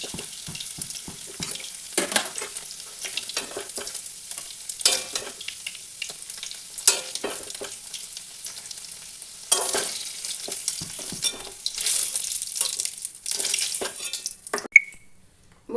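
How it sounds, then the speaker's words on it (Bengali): Paneer cubes frying in oil in a pan, with a steady crackling sizzle broken by repeated sharp scrapes and clinks from stirring and lifting the pieces, close up and without talking. "পনিরটা ভাজা হয়ে গেছে"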